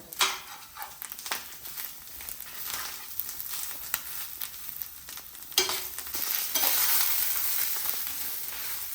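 Grated coconut, onion and curry leaves sizzle in a hot pan while being stirred, a continuous frying hiss punctuated by scraping strokes of the spoon that grows fuller and louder toward the end.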